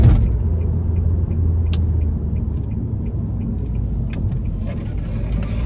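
A 2013 Nissan Juke SL AWD with a 1.6-liter turbo four, in Sport mode, pulls hard out of a corner, its steady cabin rumble loud and constant throughout, heard from inside the car.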